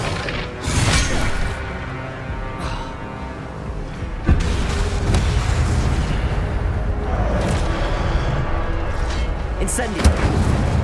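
Incendio fire spells cast in Hogwarts Legacy burst out as loud whooshing blasts and crashing impacts, with a sharp hit near the start and heavy rumbling booms throughout, mixed with game sounds.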